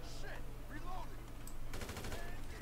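Gunfire from a GTA Online wave-survival match, with a continuous bed of game noise and a burst of rapid shots toward the end, low in level under the game's background sound.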